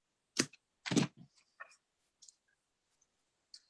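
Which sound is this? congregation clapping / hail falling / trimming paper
trimming paper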